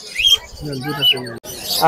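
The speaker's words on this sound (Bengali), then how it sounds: "এখানে চমৎকার একটি পাখি দেখছি ভাইয়ের কাছে" Birds chirp in short, sharp tweets at a Mirpur bird market in Dhaka, a few quick calls over a busy background, with people talking nearby.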